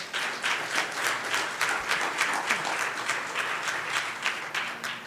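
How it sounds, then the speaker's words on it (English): A church congregation claps in praise to the Lord, a dense, steady wash of many hands clapping that holds evenly throughout with no voices standing out. "Can you give the Lord a hand clap of praise right there?"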